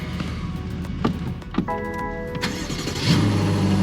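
A practically new car from a Copart auction yard in Trenton cranks over and its engine catches, settling into a steady medium idle hum after a few clicks and thumps, fairly close and with no talking.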